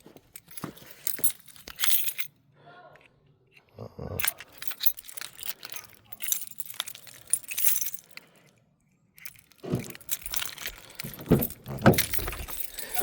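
Car keys jangling and clinking in bursts close by, handled repeatedly with short quiet gaps between, some metallic rattles louder than others.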